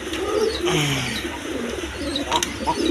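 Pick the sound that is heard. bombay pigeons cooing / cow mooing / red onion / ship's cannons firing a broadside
bombay pigeons cooing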